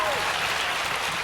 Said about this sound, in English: sure, round of applause